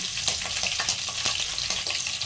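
Curry leaves and green chillies crackle in hot oil for prawn thokku, a loud, close, continuous sizzle with quick spitting pops and stirring, no voices.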